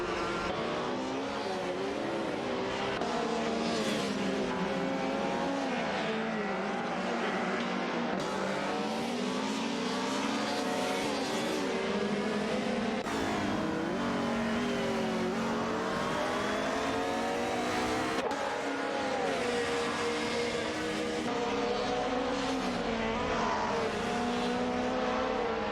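Video game race cars roar continuously in a close pack, engines revving and shifting in overlapping waves, with occasional passes and faint tire squeal, no talking.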